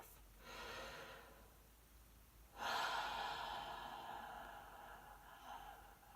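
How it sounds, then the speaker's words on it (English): One long, slow breath drawn in and let out during a quiet meditation, soft and close, a gentle inhale followed by a louder, fuller exhale that trails off into near silence. "One more big breath."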